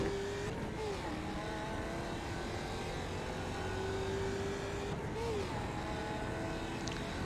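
A Skip Barber Mustang race car in the iRacing simulator drones along steadily at Sebring, with its engine tone dipping and rising twice through quick gear changes. The engine noise is continuous and fairly loud, with no talking.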